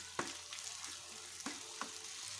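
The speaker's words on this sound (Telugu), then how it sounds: "పసుపు కలిపి పెట్టుకున్న మామిడికాయ తురుము వేసుకోవాలి వేసుకొని ఆ నూనెలో కొంచెం వేగనివ్వాలి" Grated raw mango mixed with turmeric frying in oil on a low flame, giving a soft continuous sizzle with a few faint stirring scrapes, quiet and close.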